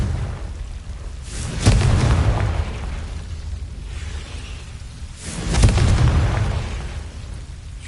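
Confringo blasting spell from the Hogwarts Legacy video game, aimed at Devil's Snare guarding a chest: two heavy booming blasts a few seconds apart, each with a whooshing burst and a rumbling tail over a low ambient bed.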